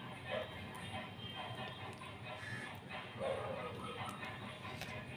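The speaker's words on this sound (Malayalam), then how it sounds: "ഇവിടെ ഒരു പട്ടി ഉറയ്ക്കുന്ന ശബ്ദം കേൾക്കുന്നു" A dog barks faintly in the distance, a few soft yips over low room noise in a home where a cat is nursing kittens.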